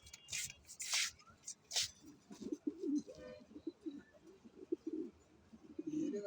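Caged pigeons coo softly in low, throaty, rolling murmurs, with a few brighter chirps and rustles early on, all fairly faint and close.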